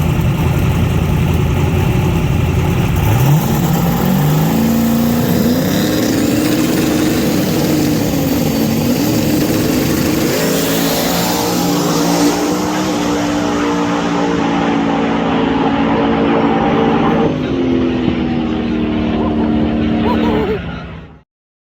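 Turbocharged drag racing car engine during a pass, loud and continuous, its pitch rising steeply then holding a high roar for many seconds before cutting off abruptly.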